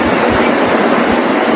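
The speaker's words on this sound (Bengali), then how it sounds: "পদ্মা সেতুর উপর দিয়ে যে ট্রেন ঢাকা কমলাপুর থেকে ভাটিয়াপাড়া হয়ে টুঙ্গিপাড়া যাবে" A train rolls past close by at Maheshpur railway station, heard from the overbridge. It makes a loud, continuous rumbling roar with faint rhythmic clatter, and no voices are heard.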